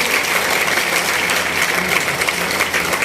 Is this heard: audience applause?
yes